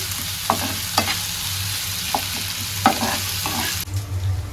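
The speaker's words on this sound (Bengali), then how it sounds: "এখানে আমি সরিষার তেল দিয়ে দিচ্ছি।" Mustard oil sizzles and fries in a pan on a home stove while a utensil scrapes and stirs in a few distinct strokes, close and steady under the constant frying hiss.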